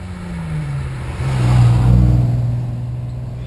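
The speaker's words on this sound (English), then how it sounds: "Way off the line goes the Stainburn with the Reliant Scimitar Coupe." A Reliant Scimitar Coupe accelerates hard off the start line at a speed hillclimb, its engine note rising and swelling loudly as it pulls away close by, then holding a strong steady drone.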